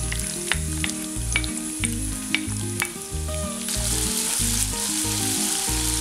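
Sliced onions fry in hot coconut oil for a clam meat fry, a continuous sizzle that swells louder partway through, heard under steady background music.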